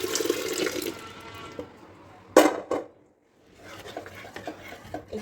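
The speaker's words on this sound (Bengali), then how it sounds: "এখন এই ডালটা আমি এটিকে ঢেলে দেবো।" Lentil dal poured into a pot of cooked beef gives a brief splashing slop and clatter in the middle, framed by quieter stirring and kitchen handling noises.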